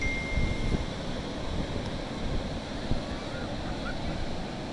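Ocean surf rolling onto a wide, long beach in Aracaju, Brazil, a continuous broad wash of waves mixed with wind buffeting the microphone, steady and fairly loud with no clear breaks.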